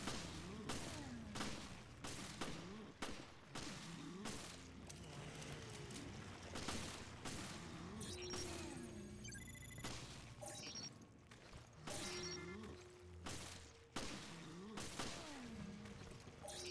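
Gunfire in the video game Resident Evil: Revelations, bursts of sharp shots repeated in quick clusters, with booming impacts and game noise between them.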